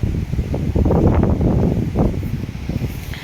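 Strong wind roars in low, rumbling gusts that buffet the microphone during a severe storm in Vav-Tharad, Gujarat, swelling in the middle and easing slightly toward the end.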